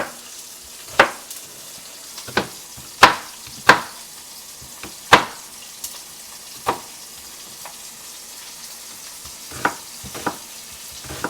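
Steak and shrimp cooking in a pan during a home crab boil, heard as a low, steady sizzle broken by about a dozen sharp pops and clatters spread unevenly through the clip, with no talking.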